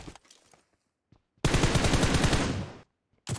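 A loud, close burst of automatic gunfire in a shooting video game, lasting about a second and a half between brief quiet gaps and faint clicks.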